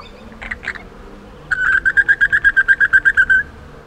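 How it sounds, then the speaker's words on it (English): A mulga parrot in open grassland studded with gidgee shrub calls in a rapid, regular series of about fifteen clear whistled notes, close and fairly loud, after a couple of softer chirps at the start. "And the mulga parrot."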